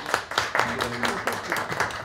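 An audience at a PTI gathering claps to welcome Waleed Iqbal, with a short burst of rhythmic, moderately loud applause mixed with crowd murmur and talk.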